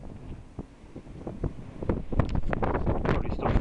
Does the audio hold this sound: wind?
yes